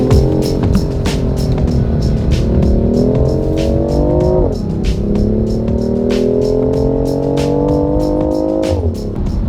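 A BMW i8 hybrid with both electric motor and petrol engine pulls hard around a race track, its engine note climbing steadily through two long rising gear runs with a brief drop between them, loud and close from inside the car.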